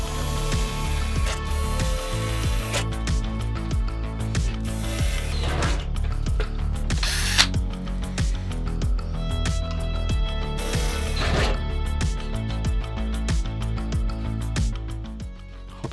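Metalwork on a Renault Master van roof for a roof vent, a continuous loud mechanical whirring and ratcheting grind with shifting pitch and brief surges, close by and without any voices.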